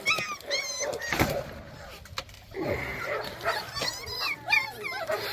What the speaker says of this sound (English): These are the pups off of Zulu, aka Candyman, times Lady of Rage.